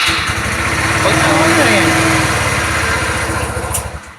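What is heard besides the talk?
carburetor-type motorcycle engine starting in cold weather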